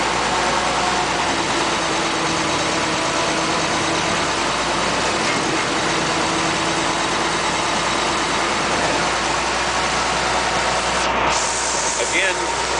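A Bucyrus Erie 10B dragshovel engine runs steadily with the clutch engaged, giving a constant heavy low drone and mechanical hum throughout, while someone talks over it.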